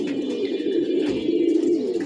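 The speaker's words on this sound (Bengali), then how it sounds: "কবুতরের বাচ্চাগুলো উড়ে বসছে" Pigeon chicks cooing close by, a soft, low, continuous burbling coo repeated over a couple of seconds, with no voices.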